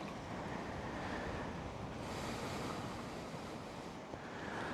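Sea waves wash onto a rocky beach where a river meets the sea near Puerto Princesa, a constant loud roar of surf mixed with wind buffeting the microphone, with no one speaking.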